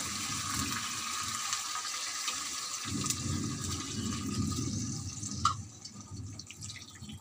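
Hot water pours into a cooking pot of browned spiced meat, a continuous splashing rush that dips briefly, then swells and tapers into quieter dripping.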